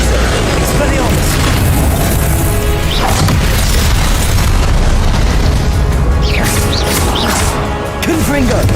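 Repeated Confringo explosive spell blasts from the Hogwarts Legacy video game, loud booms and crashing bursts in a dense, continuous barrage with chaotic combat effects throughout.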